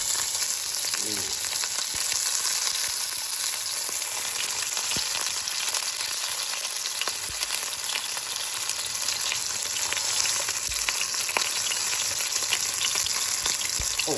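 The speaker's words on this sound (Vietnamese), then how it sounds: "Bây giờ John sẽ bỏ thịt vô." A Walmart steak fries steadily in a pan, a loud, continuous sizzling hiss with faint crackles and occasional stirring knocks, no talk.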